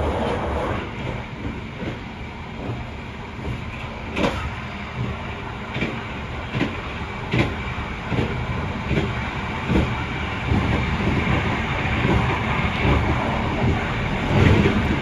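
Trains passing each other near Kutoarjo station on an Indonesian railway line, heard from aboard: a steady loud rumble of wheels on track with repeated clickety-clack joint beats and brief sharp transients over about fifteen seconds.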